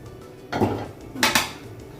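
Metal clatter as a pressure cooker whistle is set onto a metal cooker lid on a stove while cooking paya: two short, close, sharp clanks about a second apart, with quiet kitchen background between.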